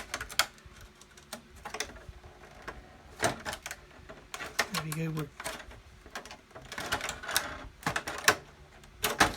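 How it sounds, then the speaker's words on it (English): Scissors snip a polycarbonate RC car body shell for a 1/10 Tamiya GR Yaris build, giving a series of crisp, close cuts in an uneven rhythm while a person speaks briefly. "I'm just going to snip up there with a pair of scissors so it doesn't snap anything"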